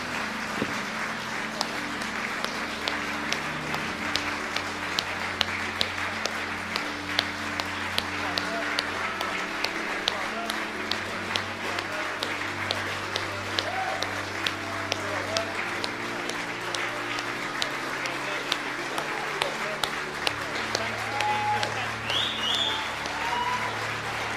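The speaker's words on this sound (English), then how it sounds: "why don't we clap as a church?" A church congregation claps together in a long, steady wash of applause lasting over twenty seconds, with voices and low sustained tones running beneath the dense, even patter.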